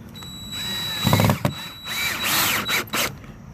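A power drill drives exterior 2.5-inch decking screws while a hot tub cover lifter is mounted, with two or three short whirring bursts that rise and stop, close up and loud.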